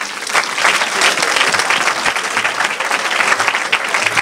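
A church congregation breaks into loud, sustained applause, many hands clapping densely and evenly throughout the room, with a faint murmur of voices beneath.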